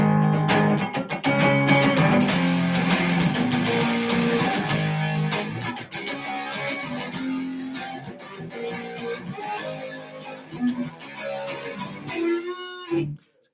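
Clean electric guitar tone run through a pedal board, played as ringing chords and picked notes with a steady rhythm over sharp percussive hits, fairly loud and continuous before fading out at the end.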